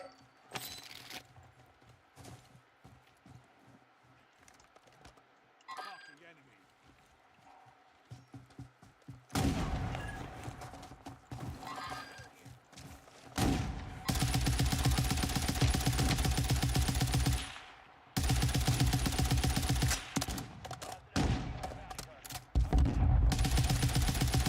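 Video game gunfire runs through a live stream, starting as scattered single shots and clicks and then building into long, loud bursts of automatic fire with brief pauses between volleys.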